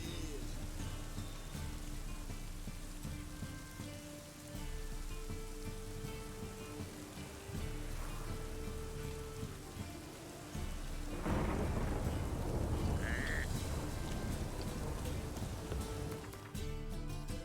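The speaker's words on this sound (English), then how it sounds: "A storm, damn it." In The Witcher 3, a thunderstorm roars over steady heavy rain, with a loud crack and rumble of thunder breaking out midway through the constant downpour.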